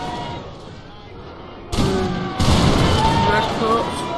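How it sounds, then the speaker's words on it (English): Cannon fire in the video game Napoleon Total War with the Zulu mod arrives as two abrupt booms a moment apart, each followed by sustained rumbling battle noise. "Got the cannon firing now."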